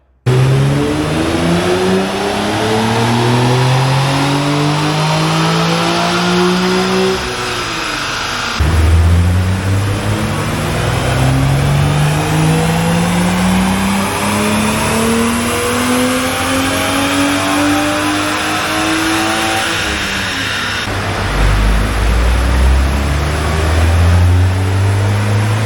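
Car engine revving hard on a rear-wheel dynamometer, only the rear wheels on the rollers, rising in repeated long pulls with brief drops between, loud and close throughout with no talk.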